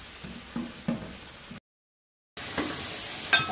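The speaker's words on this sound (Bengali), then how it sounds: "প্রথমে আমি চুলায় পেঁয়াজগুলোকে লাল করে নিচ্ছি, তারপরে দিব একটু রসুন বাটা, একটু আদা বাটা" Onions frying on a stove with garlic and ginger paste give a steady soft sizzle, broken by a few clattering stirs against the pan and a brief silent gap.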